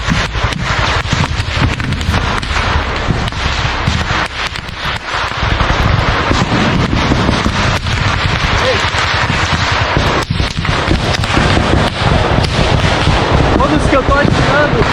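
Dense, continuous gunfire and explosive bangs in combat in Ukraine, loud and close with wind buffeting the microphone, shouted voices mixed in throughout.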